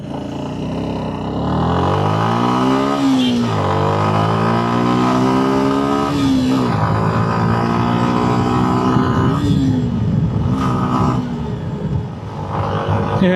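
A Suzuki Gixxer SF motorcycle pulls away from a standstill in neutral, its engine revving up loudly and climbing in pitch through several gear changes, with brief dips at each shift.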